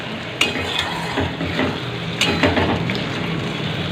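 Poppy seed paste being stirred into a frying pan with boiled potatoes for aloo posto, a close sizzle under sharp scrapes and clinks of a utensil against the pan.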